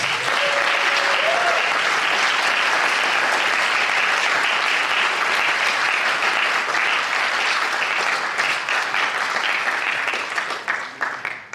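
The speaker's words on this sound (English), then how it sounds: "Please join me in giving them a resounding round of applause." Loud, sustained applause from a graduation ceremony audience, a thick wash of clapping that holds steady for about ten seconds before thinning out at the end.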